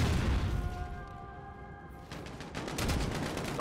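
Grenade blasts in the Modern Warfare video game: a loud boom opens, fades into a lull, then a second burst of crackling explosions and gunfire rolls in near the end.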